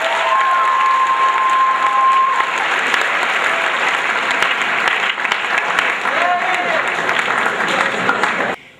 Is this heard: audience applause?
yes